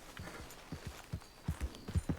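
Horse hooves clip-clop steadily in Red Dead Redemption 2, a Wild West game played in VR mode, with the beat growing louder and heavier toward the end.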